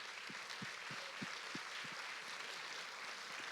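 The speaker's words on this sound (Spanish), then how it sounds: "Levante su mejor aplauso al Rey." A church congregation applauds during a service, a faint, steady wash of distant clapping that holds evenly throughout.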